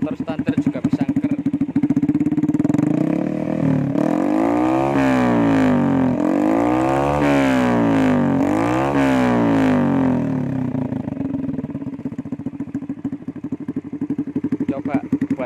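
A stock Yamaha Vega motorcycle fitted with an aftermarket DPJ exhaust idles loud and close, with a deep throbbing burble that swells through several sharp revs in the middle before settling back to a steady idle.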